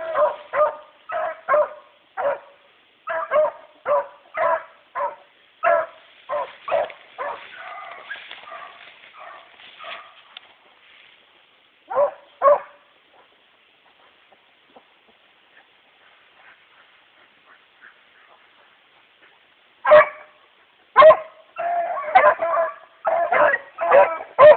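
Dogs crossing a creek, barking and yipping in quick repeated bursts, a long run of barks, a quiet stretch, then another close cluster of sharp yips.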